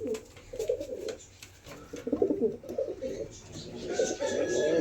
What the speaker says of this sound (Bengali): এই পায়রাগুলো সব ছাড়া হবে এখন